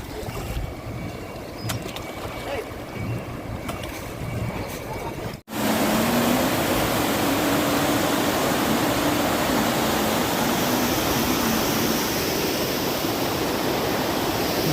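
Swollen river in flood, its water rushing loudly and steadily as a continuous roar; a quieter stretch of flowing water and faint talk comes first, then a sudden jump to full, dense torrent noise.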